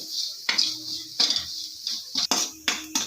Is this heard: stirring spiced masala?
yes